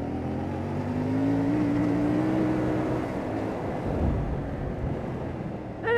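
A CFMoto 450MT motorcycle pulls away, its engine note climbing steadily then leveling off under constant wind rush, heard from the rider's position with no talk.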